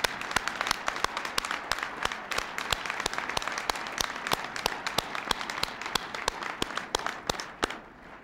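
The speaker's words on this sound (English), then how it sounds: "Please join me in applauding our good work." Steady, sustained applause from a large dinner crowd at the 1995 Radio & TV Correspondents' Association Dinner, sharp distinct claps filling the room for several seconds before tapering off.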